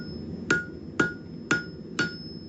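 Steel being hammered on an anvil while forging a fire poker, four hard, evenly spaced ringing blows about half a second apart, loud and close against a low background hum.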